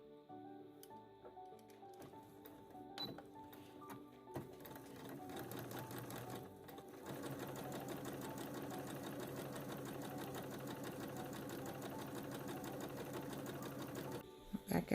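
A sewing machine stitches down a seam allowance for a seam finish, running in a steady fast mechanical whir that starts in short bursts and then runs continuously and loud to the end.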